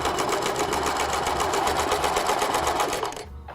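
Sewing machine running a straight stitch at 2.5 mm length on fabric, a fast, steady mechanical whir and tapping heard up close, then stopping near the end.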